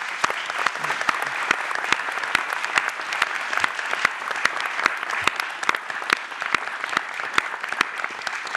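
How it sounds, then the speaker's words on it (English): A round of applause from the audience after a Q&A session at a Net Zero Scotland sustainability event, with sharp individual claps standing out over a steady crowd clatter throughout. "Round of applause."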